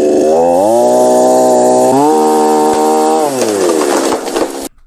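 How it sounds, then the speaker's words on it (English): A chainsaw engine roars loud and close, revving up and down in pitch across several seconds before cutting out abruptly. "Has he got a chainsaw?"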